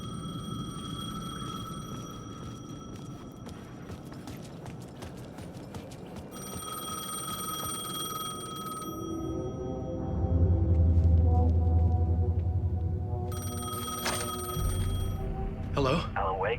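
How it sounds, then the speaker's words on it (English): An old-fashioned payphone bell rings in repeated bursts in Alan Wake 2, its metallic trill sounding over a low ambient rumble and heavy thuds, with a pause between rings. "The payphone was ringing."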